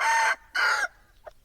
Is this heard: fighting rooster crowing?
yes